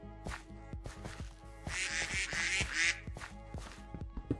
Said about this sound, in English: Where are the ducks?